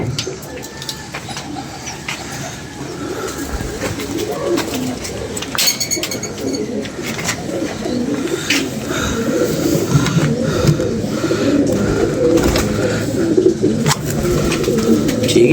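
Pigeons coo again and again in a steady, close chorus, with other birds faintly chirping and a few scattered voices now and then.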